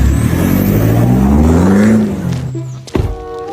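A motor vehicle rolls up loud and close with a steady engine drone that bends in pitch as it slows, then a thunk and a short idle as it stops.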